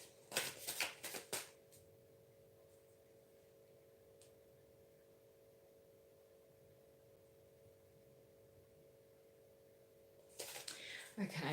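Tarot cards being shuffled in a short burst of quick riffling, then a long quiet stretch with a low steady hum, and more card handling returning at the end.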